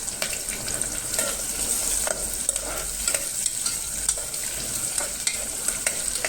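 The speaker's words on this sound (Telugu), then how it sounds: "ఆనియన్స్ గోల్డెన్ బ్రౌన్ కలర్లో వచ్చేంత వరకు బాగా మగ్గనివ్వాలి." Onions and curry leaves frying in oil for a ridge gourd and chana dal dish, a close, continuous crackling sizzle punctuated by regular spoon stirs and scrapes, with no talk.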